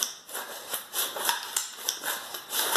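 Charging handle on a Bear Creek Arsenal AR upper with a bulk carrier group, worked repeatedly in a steady rhythm of close, crisp metallic scrapes and clicks, with no talking.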